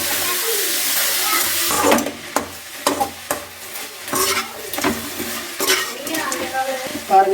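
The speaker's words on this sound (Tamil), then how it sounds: "நல்லா சுத்தம் பண்ணி வச்சுருக்கிறேன் முடக்கத்தான் தலையை சேர்த்துக்கலாம். சேர்த்துட்டு இது நல்லா வதக்கிக்கணும்." Mudakkathan keerai greens are sautéed in a pan, with a soft sizzle under repeated scraping stirs of a spatula against the pan, the strokes close and uneven in rhythm.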